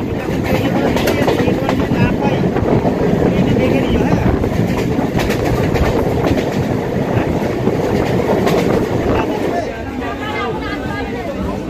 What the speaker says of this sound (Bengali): আমাদের ট্রেনটা এবার দীঘার লাইনে কনভার্ট করে দিচ্ছে